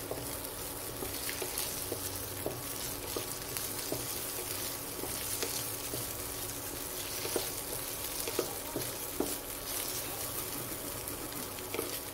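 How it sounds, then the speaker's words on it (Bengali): Prawns fry lightly in a pan while being stirred, giving a soft, even sizzle with occasional scraping ticks from the stirring, steady and close throughout. "চিংড়ির কাঁচা যে গন্ধটা সেটা দূর করার জন্যই আমি চিংড়িটাকে একটু হালকা করে নেড়ে নিচ্ছি"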